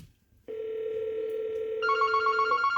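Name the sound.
Yealink desk phone ringing on incoming call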